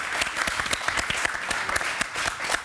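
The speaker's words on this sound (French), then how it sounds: "On peut l'applaudir." A live-show audience applauds French magician Kevin Micoud with steady, dense clapping that continues throughout at an even, lively level.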